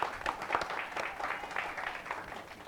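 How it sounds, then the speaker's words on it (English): An audience at an Academic Challenge Bowl final claps in a short burst of applause, a dense patter of hands heard from a moderate distance. "let's give them one more big round of applause"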